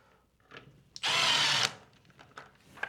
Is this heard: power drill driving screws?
yes